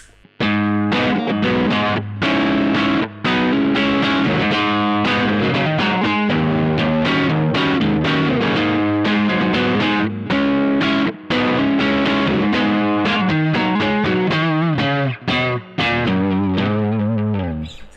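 Electric guitar through a Mosky Ultimate Drive mid-to-high gain distortion pedal, loud saturated chords and riffs played continuously with brief gaps, no talking.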